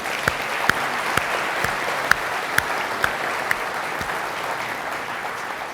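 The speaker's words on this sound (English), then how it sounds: "Could we all just give them all another round of applause" Applause from a conference audience thanking speakers and panellists at an institute of international affairs event, a steady wash of clapping with a few sharper, louder claps standing out, fairly distant and continuous with no talk.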